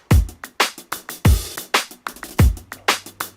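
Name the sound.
bass dead notes grooving kick and snare groups of three and four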